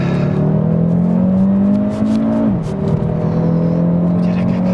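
A Cupra Formentor VZ5 with its 390 hp five-cylinder turbo engine revs loudly and close, a steady droning pitch rising briefly, dipping sharply, then settling into a strong constant hum with faint clicks above.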